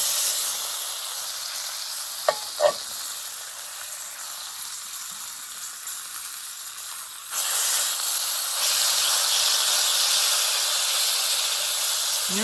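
Pork chops fry on a camping stove in a steady, close sizzling hiss, with a couple of brief knocks early on; the sizzle grows louder and fuller partway through, and no one speaks.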